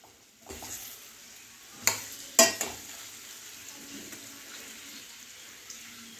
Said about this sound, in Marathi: अगदी 2 मिनिटं आपल्याला हे तेलामध्ये शिजवून घ्यायचं आहे।